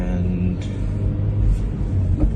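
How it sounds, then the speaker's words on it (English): A manual car being driven in first gear without shifting up, giving a steady low engine rumble with road noise inside the cabin. "I forgot this car is manual, so I was actually driving on the first gear"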